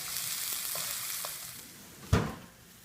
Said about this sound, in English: Now it's sizzling and getting ready.